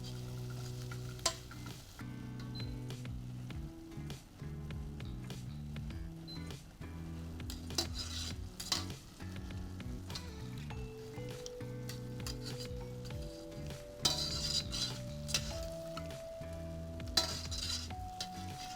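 Pastry fries in oil in a frying pan with a soft sizzle, under scraping and clinking of utensils and a sustained tonal hum, fairly quiet overall.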